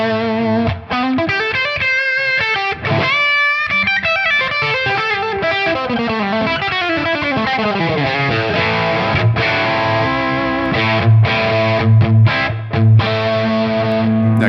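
Electric guitar played through a Tonex amp model at the third gain level, distorted sustained chords and melodic runs that ring out, then choppy muted stabs toward the end, with no talking.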